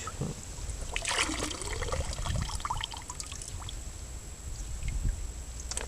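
Water splashes and trickles as it is tipped out of a box, with wet sloshing and dribbling close by over faint outdoor background noise, during pike fishing.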